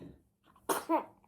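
A single sneeze bursts out indoors in a family home, a sharp double-puffed explosion after a brief quiet intake, close and fairly loud.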